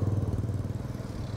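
A motorcycle engine idles up close at a busy motorcycle trade area, a steady pulsing rumble with rapid rhythmic chugging that continues throughout.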